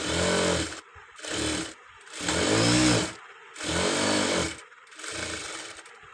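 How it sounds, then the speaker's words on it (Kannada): A sewing machine stitches a katori blouse in five loud bursts of whirring, each about a second long, with short silent pauses between them. "ಡಬಲ್ ಸ್ಟಿಚ್ ಹಾಕಬೇಕು"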